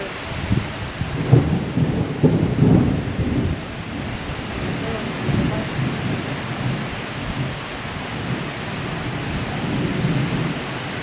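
Thunder rumbles low through steady rain during a May storm rolling in over a wilderness lodge, with a couple of heavier booms early on and a continuous rain wash filling the background.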